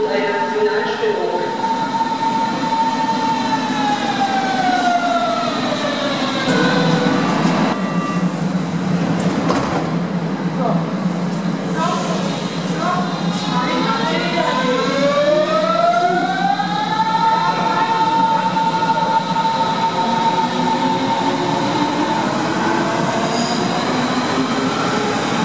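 A train running through Berlin's North-South rail tunnel between Brandenburger Tor and Gesundbrunnen, with steady loud rolling rumble, rising and falling whining tones from the motors, and brief squeals, continuous throughout.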